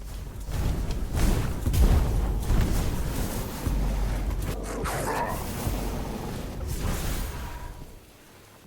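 Dogs in the video game Tainted Grail: The Fall of Avalon bark and whimper a few times over a dense, rumbling ambient game soundscape.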